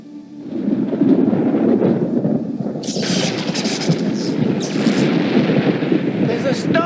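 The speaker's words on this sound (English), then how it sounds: "There's a storm coming!" Deep thunder rumbles continuously from an approaching storm, with a loud low roll that builds and broadens partway through, while a voice speaks over it.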